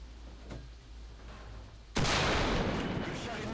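A tank cannon in War Thunder fires a single booming shot from a French tank, a sudden loud blast followed by a long rumbling tail over a low engine hum, with faint talk in the background.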